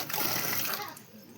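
Water gushes and splashes into a village drinking trough where dogs and cats come to drink, a steady close pour that thins out toward the end.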